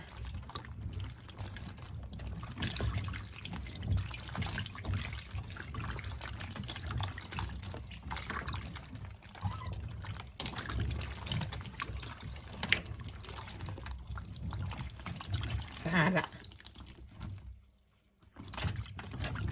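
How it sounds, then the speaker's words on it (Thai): Rare black Knippesopp mushrooms get their third rinse in water in Norway, producing steady close sloshing and splashing with trickles and drips, continuing throughout before a brief lull near the end. "ต่อไปล้างน้ำที่สามแล้วจ้า"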